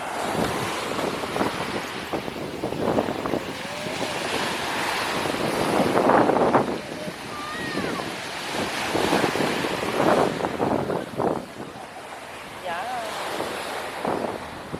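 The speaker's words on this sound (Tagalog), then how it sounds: "So medyo maalon lang dito sa spot na to, pero maganda." Surf rolls onto a Boracay beach as sea waves break and wash in under gusty wind buffeting the microphone, a loud continuous rush with swelling surges, while voices talk faintly in the background.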